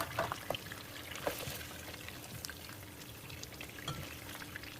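Sausage sizzles in frying oil with a soft continuous crackle and a few small pops, faint and close, with no talking.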